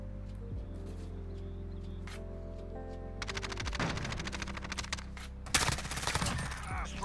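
An M4 rifle used as an SMG fires in Modern Warfare Search and Destroy, with rapid bursts of gunfire cracking loud and close in two main volleys after a quieter stretch of game background.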